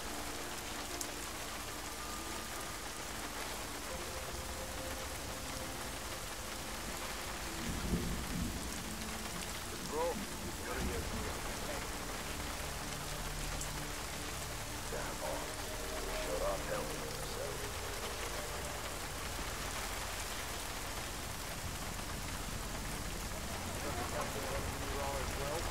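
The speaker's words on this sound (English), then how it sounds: "It's raining out here." Heavy rain hisses continuously while thunder rumbles and cracks a few times, some close, some distant, with no one speaking, in the video game Deus Ex: Mankind Divided.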